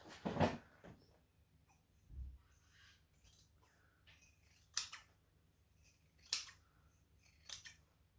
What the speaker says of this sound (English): now I'm going to take my scissors, trim everything so it's the same size